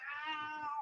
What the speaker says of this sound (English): Even his cat interrupts the Raw report.